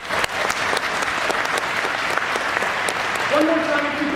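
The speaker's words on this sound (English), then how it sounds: "let's clap it up for half the room" An audience at a Gary Vaynerchuk keynote claps steadily for about four seconds, a dense, loud, even round of applause with a brief tonal murmur near the end.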